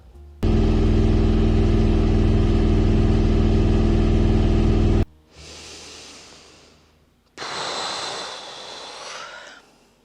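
A washing machine at high spin runs very loud with a steady droning roar for several seconds, then cuts off into quieter hissing, whirring stretches.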